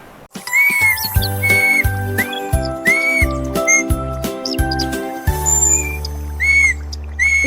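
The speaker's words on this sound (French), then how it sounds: "Le caneton a commencé à essayer des mélodies sifflantes, atteignant le ciel." High whistled bird-like melody lines from a duckling in a children's song, bright repeated tweets and slides over a steady rhythmic musical backing, loud and close.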